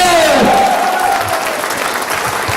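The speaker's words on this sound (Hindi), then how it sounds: "एक बार शानदार तालियां बजाकर दिखाइए" Dense, loud audience applause at a live business seminar, a continuous wash of many hands clapping with a brief voice or tone sliding over it at the start.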